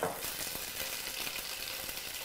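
Ginger and garlic paste fries in a pan with a steady, close hiss, fizzing evenly and cut by a few light stirring scrapes.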